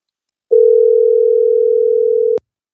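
Telephone dial tone heard during a phone line test: a single loud, unbroken steady tone lasting nearly two seconds, starting and ending abruptly with a small click at the cutoff.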